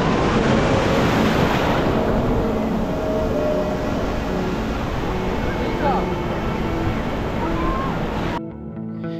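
Sea surf at Marine Drive on the Odisha coast roars in a continuous, loud wash, heavily buffeted by wind against the microphone, before cutting off abruptly near the end.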